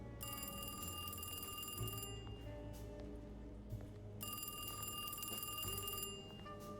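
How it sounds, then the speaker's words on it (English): A telephone rings in the video game Alone in the Dark, its trilling bell sounding in two long bursts with a short pause between them, fairly faint and set against a low ambient hum, with no one speaking. "I could barely hear the phone."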